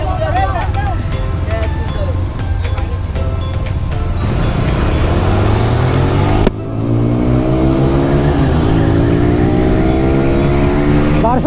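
A GPX motorbike engine revs hard at a 300-foot bike race, a loud, continuous buzzing drone that climbs in pitch, cuts briefly, then rises again, with voices mixed in underneath.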